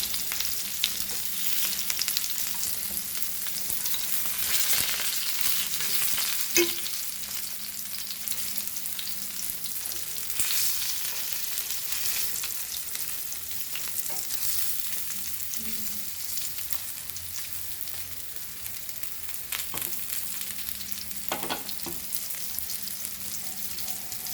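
Black pomfret coated in rava, Goan style, sizzles steadily on a tawa over a medium flame, a continuous close crackling hiss with occasional small pops and taps, no talking.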